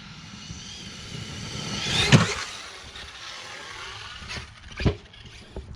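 An Arrma Kraton XL RC car runs through grass toward a ramp, its electric motor whining up in two sharp bursts with squealing surges and a thump, fairly faint and outdoors, with no speech.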